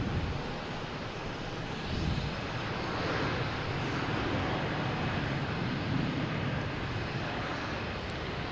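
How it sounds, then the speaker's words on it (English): An Air France airliner takes off at Boston Logan Airport, its jet engines a broad, steady roar heard from a distance that swells slightly and holds for the whole stretch, with no voices. "We have Air France surprising the heck out of us, taking off."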